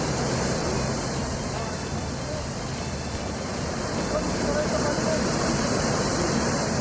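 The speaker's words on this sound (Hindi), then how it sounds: "देखिए एक जो नाला था वो किस तरह से उफन रहा है और वो पूरा पानी इस सड़क पर आ रहा है" Torrent from an overflowing stream flooding a road after heavy rain in Ramnagar, Uttarakhand, a loud, constant rushing roar of water that holds steady and close throughout.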